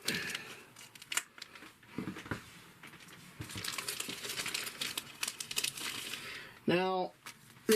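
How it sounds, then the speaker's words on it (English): A product package torn open by hand, with crinkling plastic, ripping and snipping at close range, plus a brief tonal squeak near the end. "while I tear that package open"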